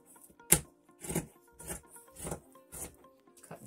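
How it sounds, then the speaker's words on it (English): Shears cut through wedding dress fabric covered in sequins and pearls, producing about seven crisp, evenly spaced crunching snips, close and fairly loud. "Cutting right through sequins and pearls."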